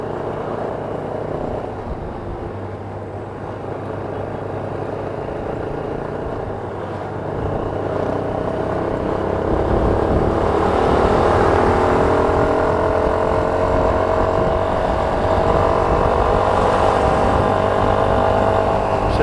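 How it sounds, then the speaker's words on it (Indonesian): A 2010 Yamaha Scorpio motorcycle with a 50 oversize engine rides along a rural road, its engine a steady droning hum with wind rush, growing slightly louder midway and running continuously with no talk. "Ini motor saya, motor Scorpio 2010,"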